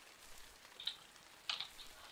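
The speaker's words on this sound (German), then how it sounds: "Oh, und es regnet." Rain patters softly and steadily in the video game MineClone2, a faint hiss of falling drops with a couple of brief, slightly louder splashes.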